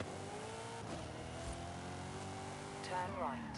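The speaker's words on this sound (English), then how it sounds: "God, the idling for this car just sounds beautiful." Engine of a car in the racing game Forza Horizon 5 idling with a steady low rumble and harmonic hum, a brief throttle blip near the end, with a voice talking over it.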